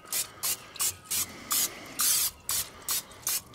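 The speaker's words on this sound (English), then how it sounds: "Got a little cooking spray right there." A cooking spray can hisses in about nine short, evenly spaced bursts onto a griddle plate, close up and fairly loud, with brief pauses between each puff.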